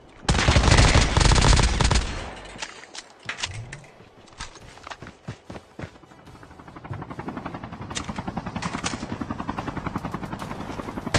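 A helicopter flying amid gunfire in a battle royale video game, loud rotor roar at first, then sharp bursts of shots, followed by a steady rhythmic rotor chop building up close.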